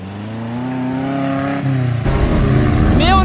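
Chevrolet Chevette engine revving steadily then accelerating harder as it sets off to drift a figure eight, loud and close, with a sharp squealing sweep near the end.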